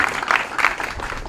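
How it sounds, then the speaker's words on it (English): Rally crowd at a Labor Day political event clapping, a dense, steady burst of applause heard close and fairly loud, with no talk over it. "Give yourselves a round of applause."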